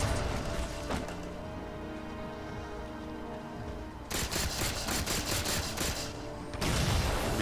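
Halo 4 campaign combat: rapid gunfire crackles steadily throughout, with harsher bursts of grenade explosions and heavy firing after the midpoint, loud and dense with no talking.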